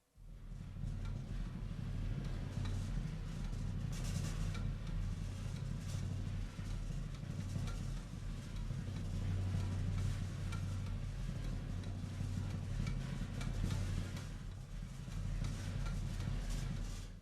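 Abyss, a dark evolving texture from the Orchestral Tools Illuvia sound library: a deep, steady rumbling drone with a hissy, grainy upper layer, sustained at an even level throughout without any speech.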